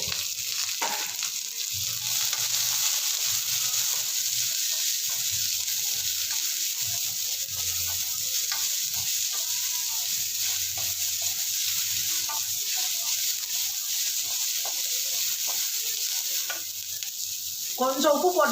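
Onion, green chilli, ginger and curry leaves frying in a pan for potato bonda: a loud, steady sizzle runs throughout, with soft stirring scrapes under it and a brief clatter near the end.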